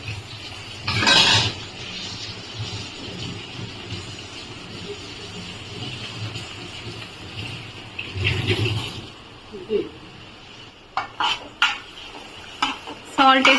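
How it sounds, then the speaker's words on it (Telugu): Curry leaves fry in a pan as a metal spoon stirs and scrapes it, giving clattering clinks in bursts over a low sizzle, with a few sharper knocks near the end. "ఇది కాస్త ఫ్రై అవ్వాలి ఫ్రెండ్స్."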